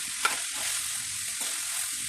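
Fried cauliflower gets stirred into a tomato sauce curry, giving a continuous hiss of sizzling with a couple of brief scraping stirs against the pan, close and alone.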